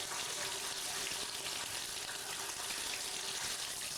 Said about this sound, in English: Nice hot water.